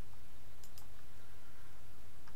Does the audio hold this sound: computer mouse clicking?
yes